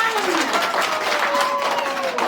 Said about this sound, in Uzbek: Olqishlab qo'yamiz